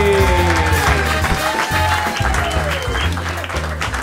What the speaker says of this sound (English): Just start clapping right now.